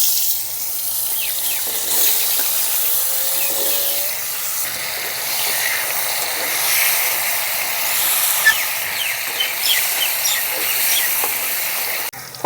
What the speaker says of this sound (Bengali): এখন ভেজে নেব আলু।